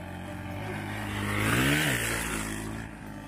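A motorcycle engine revs up and falls back in one smooth swell while the rider pulls a one-wheel wheelie at Kot Bhatyian near Khuiratta, Azad Kashmir; the sound is fairly distant and heard alone.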